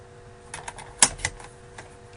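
Paper cut with a trimmer for an eight-page scrapbook layout, a few soft slides and one sharp slicing click, close and fairly quiet in a still room.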